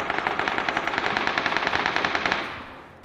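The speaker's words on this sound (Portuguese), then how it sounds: "quanto tiro de AK?" AK rifle fire in the video game PUBG on the Vikendi map comes as a rapid automatic burst of evenly spaced shots lasting a couple of seconds, then trails off into a fading echo.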